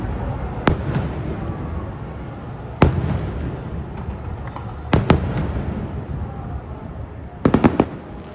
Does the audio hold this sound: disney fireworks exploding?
yes